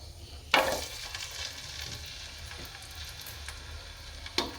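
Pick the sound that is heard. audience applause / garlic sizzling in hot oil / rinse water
garlic sizzling in hot oil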